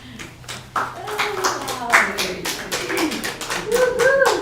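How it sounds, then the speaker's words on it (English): A church congregation at a Sunday healing service applauds, scattered claps building into a rough, uneven ripple of hand-clapping with some voices mixed in. "So applaud yourself."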